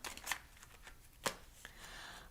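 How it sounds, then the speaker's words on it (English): Tarot cards being shuffled by hand, with a few soft riffling bursts and papery flicks heard close and faint. "These cards are so hard to shuffle, man."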